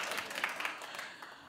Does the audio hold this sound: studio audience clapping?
yes